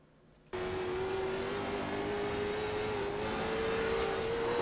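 A drift car's engine in onboard race footage at Langley bursts in after a brief quiet moment, then holds a loud, steady, high-revving drone close to the listener with only slight pitch changes, and no voices.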